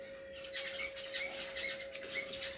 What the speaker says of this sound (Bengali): তো দেখেন মাশাআল্লাহ আমার পাখিগুলা